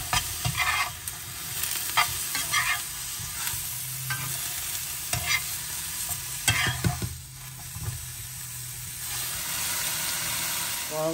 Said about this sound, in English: While the mushrooms are cooking,